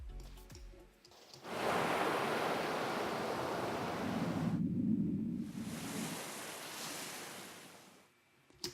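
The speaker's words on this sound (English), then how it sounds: "so the ocean comes in" Ocean surf used as a natural soundtrack in an edited video rushes in as a broad, steady wash of waves and spray, swelling and briefly dipping before returning, fading at the end.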